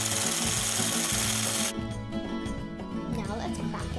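Electric mixer whirring steadily while beating butter into red velvet cupcake batter, a continuous buzzing motor that drops in pitch partway through, with a voice talking over it.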